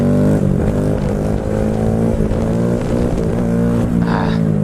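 Honda Grom motorcycle with a stiffer, more responsive upgraded clutch, its engine droning steadily and loud throughout with harmonic engine tones, as if heard from the rider's position.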